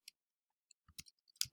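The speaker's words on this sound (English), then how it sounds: "I'll start typing" A few quiet, scattered key taps close by, irregular clicks with gaps between them, no voices.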